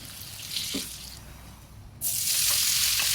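Chopped onions hit turmeric-infused oil in a pan with a sudden loud, bright sizzle that holds steady, following a quieter stretch of kitchen noise and clinks.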